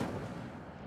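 Incendio fire spell cast in the Hogwarts Legacy video game: a dense, rumbling burst of flame that holds steady and loud through under a second with no voice.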